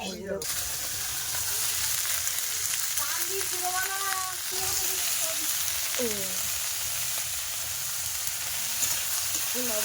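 Fish curry with turmeric sautés in oil with a dense, continuous hiss of frying. A voice briefly talks over it.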